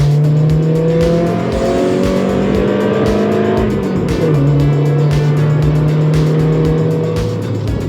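Several racing car engines in a Forza-style racing video game, a 90s JDM budget sedan racing BMW M3 and M5 Competitions and a Lamborghini Huracan Performante, drone loudly and steadily, with pitches sliding as the cars shift and pass.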